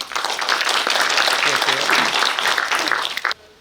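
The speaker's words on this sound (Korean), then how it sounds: "박수 부탁드리겠습니다" Loud, sustained audience applause at a Korean book-launch ceremony, filling the room for over three seconds before cutting off abruptly near the end.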